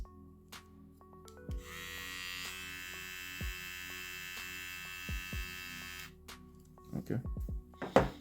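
An electric hair trimmer for home use runs with its blade removed, giving a steady buzzing hum that starts after a click and stops abruptly, with faint clicks and handling noises before and after.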